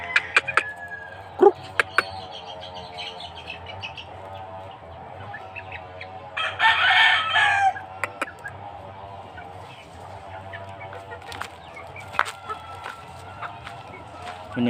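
A three-month-old Sweater Kelso gamecock at a small breeder's yard in Bohol gives scattered short clucks and one brief, strained crow near the middle, with quiet background talk and other yard noises.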